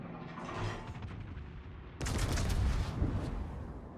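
Heavy naval gunfire in a World of Warships battle, a battleship being shelled: dense rumbling salvos that jump sharply louder halfway through, then continue as sustained booming with crackling impacts, no talk over it.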